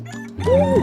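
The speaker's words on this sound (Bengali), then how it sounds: "কোনো একটা মোরগ ডাকছে" A short, high, wavering cartoonish crow rises over a steady hum and background tones, lasting under a second.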